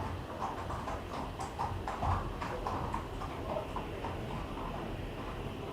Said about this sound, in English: The horses are going by on the cobblestones.